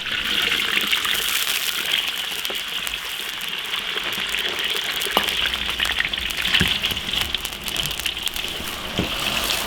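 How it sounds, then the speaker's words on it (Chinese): Potatoes deep-frying in a generous amount of hot oil in an iron wok, giving a steady, dense sizzle and crackle with scattered pops throughout, close and continuous with no voices. "烧宽油， 油温起来了，把土豆炸一下。"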